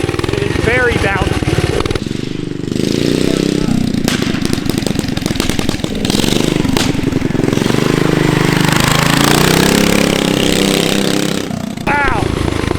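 A mini bike fitted with a large flea market engine revs and accelerates loudly and steadily for the whole stretch, with excited talk over the engine noise.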